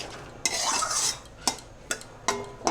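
A utensil stirs mixed vegetables in a pot for a vegetarian curry, making close scraping strokes followed by several sharp clinks against the metal pot.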